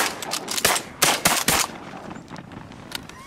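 Several shotgun blasts ring out while duck hunting, a rapid cluster of loud close shots followed by fainter distant reports.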